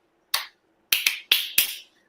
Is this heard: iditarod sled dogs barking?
no